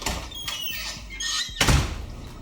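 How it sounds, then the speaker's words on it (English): A cat scratches at a wooden door, giving a few scraping bursts mixed with thunks and squeaks, fairly close and moderately loud. "Thank you, Kat, for scratching my door."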